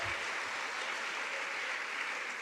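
A church congregation applauds, a steady dense wash of clapping hands that holds at an even level throughout, with no voice standing out.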